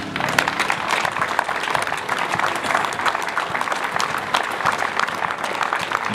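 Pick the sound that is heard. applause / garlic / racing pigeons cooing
applause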